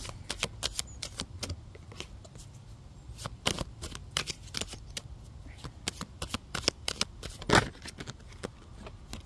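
A deck of playing cards is shuffled by hand, producing irregular bursts of crisp riffling snaps and slaps at close range with short pauses between them.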